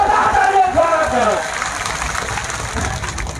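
A crowd at an Indian political party public rally claps and cheers to welcome a district panchayat member and the chief guest, a loud burst with raised shouting voices at first that eases into a denser clatter of clapping.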